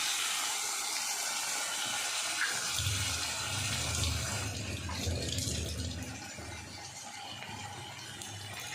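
Water pours and splashes into a cooking pot on the stove, a steady close rush with a low bubbling rumble joining partway through, fairly faint overall.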